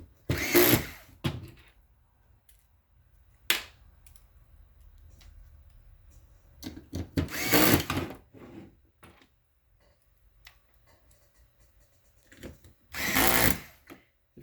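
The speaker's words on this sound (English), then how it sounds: "If you do happen to be using a drill driver, very low torque." A drill driver set to low torque drives small screws into a circuit board, giving three short whirring bursts spaced several seconds apart, with faint handling clicks between them.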